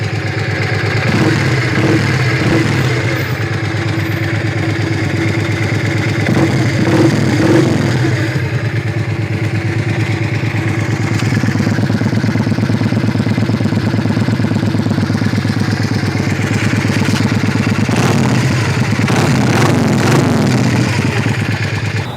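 Close and loud, a Yamaha XV 400 Virago motorcycle engine runs at idle with a few modest throttle blips that briefly raise the pitch and volume before dropping back to a steady rumble, with no voices.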